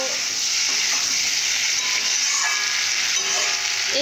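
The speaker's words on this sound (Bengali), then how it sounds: "এইভাবে আর কিছুক্ষণের জন্য ভালো করে কষে নেব।" Papad and potato curry fries in a pan with a loud, continuous sizzle, heard close up while it is stirred, with faint scraping throughout.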